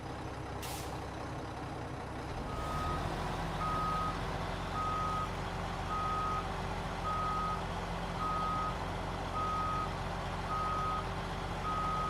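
A truck's reversing beeper in the video game SnowRunner, evenly spaced steady beeps repeating over a loud idling engine rumble, following a brief hiss of an air brake.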